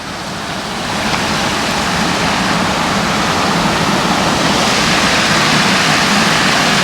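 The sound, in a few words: water rushing over a small dam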